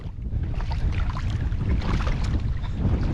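Strong wind buffets the microphone while crappie fishing from a boat on open water, a loud continuous low roar with rushing gusts and no speech.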